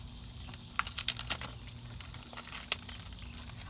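A Nintendo 2DS XL box's packaging is sliced and torn open, with a run of close, sharp crinkling and tearing snaps at an uneven pace against a quiet room.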